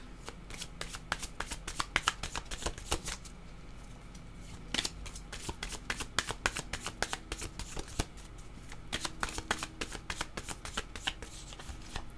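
Oracle cards are shuffled steadily by hand before one is drawn. Dense bursts of crisp flapping and riffling close to the listener are broken by short pauses, and no one speaks.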